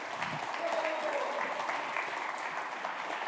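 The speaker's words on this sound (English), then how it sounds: "So, clap. You can clap." Quiet, distant clapping from a conference audience at a Svelte developer talk, a soft scattered patter running for a few seconds with faint voices underneath.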